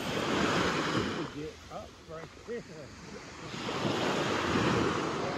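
Waves wash onto the beach at Sipalay in a steady, close roar of surf with wind buffeting the microphone, easing briefly in the middle while a person talks, then rising again.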